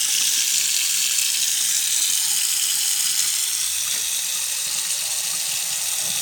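Water runs steadily from a chrome tap into an IKEA HAVSEN sink and drains away, a constant close hiss and splash with no talking.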